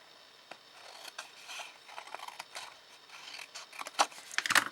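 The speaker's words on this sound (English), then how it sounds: "just cut a little, do a little wedge to help it close more easily" Scissors snip a small wedge into a card favour box with a quick run of close, crisp cuts and paper rustles, building to a few sharper snips at the end.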